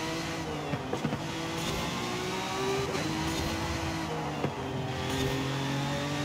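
Car engine in a racing video game drives along a track, a continuous loud drone with shifting engine pitch and occasional gear changes, sustained throughout with no talking.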